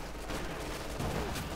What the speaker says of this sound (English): So many light machine guns,